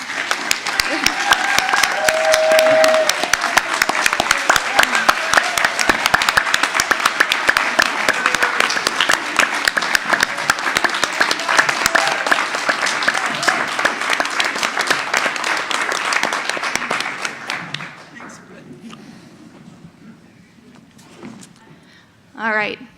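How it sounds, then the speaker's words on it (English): Audience applause for a panel speaker at a community event about Rocky Flats, steady dense clapping that fills most of the stretch, then tapers off into quieter room noise with a brief voice near the end. "another round of applause"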